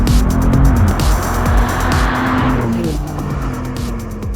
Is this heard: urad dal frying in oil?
no